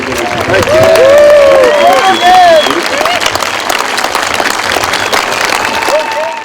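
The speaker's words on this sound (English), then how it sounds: "While the cheering crowds recognize Ken's achievement in this race, I know he has spent a lifetime getting here" A large crowd applauds and cheers for a gold medalist after a race, loud sustained clapping with rising whoops and shouts filling the space, tapering slightly toward the end.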